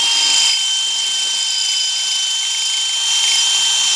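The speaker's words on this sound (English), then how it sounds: "So it's definitely drilling in there pretty darn good." A Mensela ED LX2 cordless electric hammer drill bores into concrete at its highest setting, giving a loud continuous high-pitched whine and grinding hiss that runs steadily throughout, close up and with no talking.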